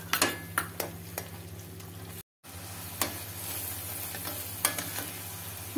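Masala of red chilli powder, coriander powder and fresh milk cream fries and is stirred in a pan for a kofta curry, with a steady soft sizzle, a low hum and a few sharp spoon clicks against the pan.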